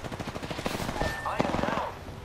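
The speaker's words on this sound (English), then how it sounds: "The enemies are shooting at me." Enemy gunfire in Apex Legends, a quick rattling burst of shots close by, mixed with game effects and a voice speaking over it.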